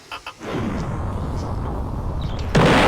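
Bomb blasts in a Roblox tower-war game, a dense continuous rumble of explosions with a sharper, louder burst near the end; short faint sounds open the clip before the roar builds.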